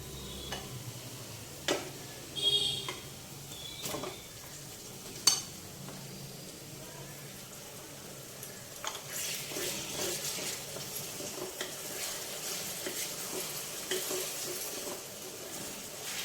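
Prawns marinated in salt, turmeric and chili powder frying with onions in a pan: a few sharp spoon clicks and scrapes early on, then a steady, fairly quiet sizzling hiss that builds and holds to the end.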